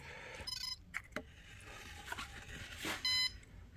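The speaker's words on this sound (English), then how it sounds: "This is a little zircon metal detector." A small handheld Zircon metal detector emits short electronic beeps, a brief one early and a clearer, longer tone near the end, over quiet workshop handling noises.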